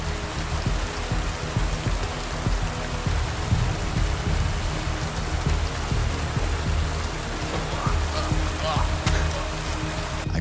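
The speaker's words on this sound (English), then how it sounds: "It started pouring rain." Steady, dense downpour of heavy rain in the medieval open world of Kingdom Come: Deliverance II, a constant hiss of drops spattering on surfaces with a low rumbling bed, running unbroken for the whole stretch with no voices.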